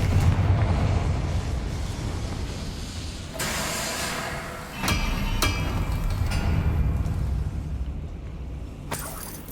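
Confringo blasting spell from the Hogwarts Legacy video game, sharp explosive bursts landing several times over a rumbling combat background, loud and near, with no talking.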